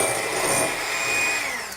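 An electric mixer beating room-temperature butter for Baileys buttercream icing, a loud, continuous whirring motor whine with a slight pitch drift, close and without voices.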